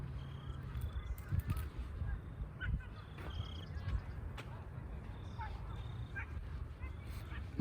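Birds calling along the San Dieguito River trail in Del Mar, California, short high chirps and honking calls scattered over steady outdoor background noise, some fairly near.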